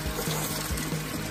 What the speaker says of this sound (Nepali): सो हामी यहाँनिर म मुख दिन्छु